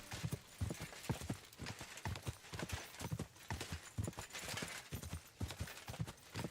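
Horse hooves clip-clop in a steady, rapid rhythm in the medieval video game Kingdom Come Deliverance 2, close and continuous with faint background sound.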